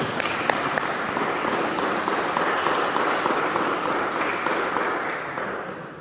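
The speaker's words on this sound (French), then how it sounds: "on va les applaudir" A church congregation applauds the confirmation children at an Advent Sunday Mass, giving a steady, dense round of clapping that fills the space and continues evenly for several seconds before tapering slightly at the end.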